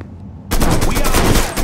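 Heavy gunfire erupts in a Mafia 3 shootout, a quiet lull giving way to a loud, sustained barrage of rapid automatic shots that runs without pause to the end.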